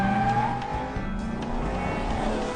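Animated race cars from Cars 2 tear through Tokyo streets, engines roaring loud and continuous with rising revs and a brief tire squeal, as if passing close by.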